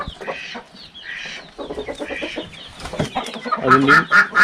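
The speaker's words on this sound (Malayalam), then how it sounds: "മുള്ളൻ കോഴി വിഭാഗത്തിൽ തന്നെയുള്ള പൂവനാണ്." A six-month-old frizzle rooster clucks and calls in short bursts, ending with a louder crowing-like cry, with faint bird chatter in the background.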